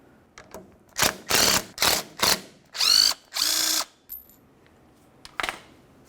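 Shock absorber bolt, washers and bushings being removed from a 2002-2005 Ford Explorer rear suspension: a series of close ratcheting bursts and metallic clinks, with a few sharp taps between them.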